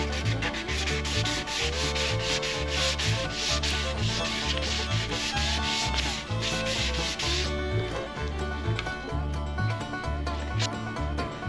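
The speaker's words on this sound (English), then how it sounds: "There's that super cool, super flexible sandpaper again." Continuous rhythmic rubbing of 220-grit sandpaper on a wooden cutting board, steady back-and-forth strokes, close and loud, no talking.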